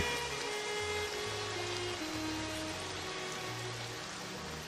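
Heavy rain pours over a cartoon village, flooding houses up to the veranda, as a steady, dense hiss that runs the whole time, with low, sustained musical tones underneath.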